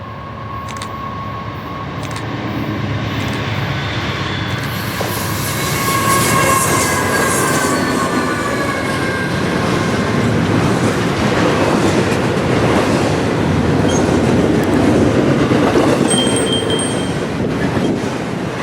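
A long Norfolk Southern intermodal freight train rumbles steadily past up close at track speed near a tunnel, wheels clattering and squealing faintly as the loud roar builds and holds.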